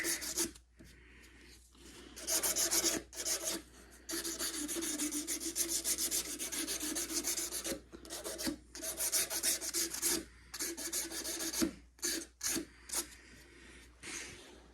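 A wooden longbow being smoothed with 180-grit sandpaper: steady, rasping strokes come close up in long runs, broken by short pauses, with no voices.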